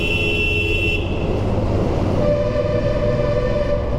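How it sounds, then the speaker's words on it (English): A Royal Enfield Interceptor 650 motorcycle horn sounds out in road traffic, a steady tonal blast over constant engine and road rumble, with a second, lower horn tone taking over midway. "See, the truck guy got excited listening to my horn."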